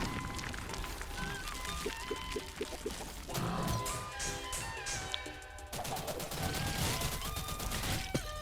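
Crypt Custodian video game combat: a large pot smashing and crumbling apart amid rapid bursts of explosions and clattering impacts, dense and continuous over background game music, with no talking.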